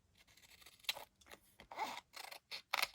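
Scissors snipping through paper ephemera while fussy cutting for a junk journal, a series of short close crisp cuts spaced irregularly, alone with no talk.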